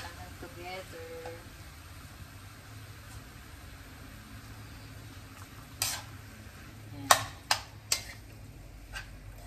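Ground meat stirred and sautéed in a pan for a hardinera dish, a low steady sizzle under a person's voice, broken near the end by a few sharp scraping taps of a utensil against the pan.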